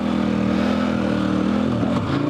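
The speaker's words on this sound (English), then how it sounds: "I've got the throttle cranked open and that back tire is spinning and working." A dual sport motorcycle held at full throttle, its Heidenau K60 Scout rear tire spinning, makes a loud, steady, close engine drone that wavers slightly near the end, with no one speaking.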